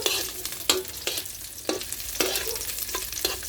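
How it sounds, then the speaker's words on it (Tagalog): Recado aromatics sautéing in rendered pork fat in a pan, with a steady crackling sizzle broken by repeated sharp scrapes and stirs of a utensil at irregular intervals, close and fairly loud. "dito tayo magbagisa sa yung recados"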